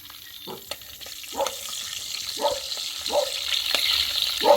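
Seasoning of onion, carrot, sweet pepper, pimento and scallion frying in a pot over an outdoor fire, with a steady hiss and about one rhythmic stirring scrape per second, close up and without talk.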